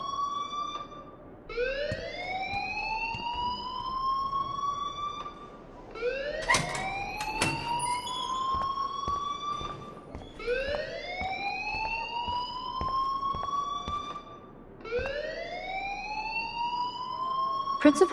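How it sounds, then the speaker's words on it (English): School fire alarm in the video game Life is Strange, a rising whooping siren tone repeating about every five seconds with a loud electronic blare, while people talk underneath. "please turn off that alarm since that's your job"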